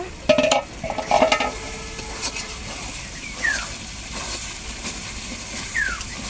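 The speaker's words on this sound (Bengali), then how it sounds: "এখন মাংসগুলোকে আবার নেড়ে ছেড়ে নেব" Beef for a Bangladeshi beef bhuna is stirred in a pot, with a low sizzle under several sharp scraping and clanking spoon strokes near the start and a few more later; no talking.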